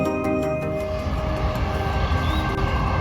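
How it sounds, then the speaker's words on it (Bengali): A metro rail train runs past over open grassland, giving a steady, continuous rumble with faint high tonal hums that hold at a moderate level throughout, with no voices. "মেট্রো রেলের চলার শব্দে গরুর ঘাস খাওয়ায় কিছুটা ব্যাঘাত ঘটলো"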